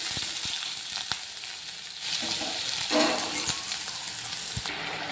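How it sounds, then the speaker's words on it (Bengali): Grated onions frying in a pan until browned, a continuous hissing sizzle with a few sharp spatula clicks and a swell of louder crackling midway, close and without speech. "ভালো করে লাল লাল করে পেঁয়াজগুলোকে আমি ভেজে নেব"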